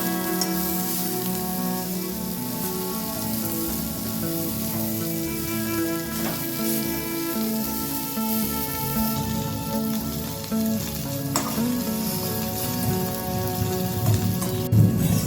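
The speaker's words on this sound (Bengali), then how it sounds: "একটা করলাকে আমি গ্যাসের ফ্লেমটা লো রেখে ভেজে নিয়েছি" Steady close sizzle and crackle of bitter gourd frying in mustard oil over a low gas flame, with occasional light clinks and a slightly louder spatter near the end.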